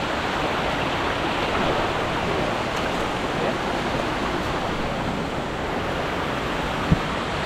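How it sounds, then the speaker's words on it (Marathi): Water rushes in a steady, unbroken roar while someone wades through a forest stream near Chinchoti waterfall, Naigaon; the flow is close, loud and even throughout, with one brief knock near the end and no talking. "पूर्ण पाण्यातून चालतो आहे आता"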